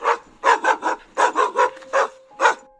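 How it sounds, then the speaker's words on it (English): A dog tied to a tree at a dark forest campsite barks frantically, a rapid string of about eight loud, close barks in quick bursts with no talk over them. "Suddenly, our dog started barking like crazy."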